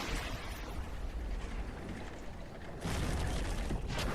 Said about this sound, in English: Boom, Artie hits him again.